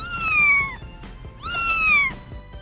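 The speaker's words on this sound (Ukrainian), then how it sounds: "Кішка мама тут хто? Це кошеня, їх малесеньке дитя." A cat meows twice, two long drawn-out calls with a short pause between, close and clear.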